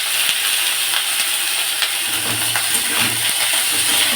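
Chopped ash gourd (chal kumro) pieces frying in a pan, a steady close sizzling hiss with faint stirring scrapes, continuous and even throughout with no talking.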